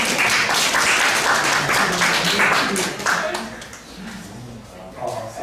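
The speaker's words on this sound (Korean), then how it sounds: "박수 한번 주세요" A classroom of students claps in a burst of applause during a college theory lecture, dense and loud at first, then thinning out as a voice begins talking over it.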